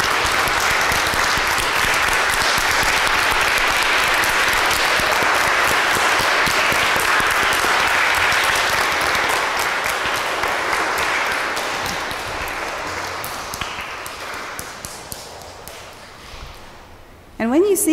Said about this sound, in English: So let's give them another big round of applause.